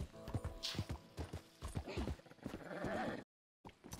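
Rhythmic clip-clop of a tamed wild horse's hooves trots along in Red Dead Redemption 2, joined by a whinny, with a brief dropout of silence near the end.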